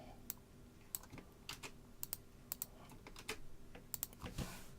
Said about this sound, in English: let's type a semicolon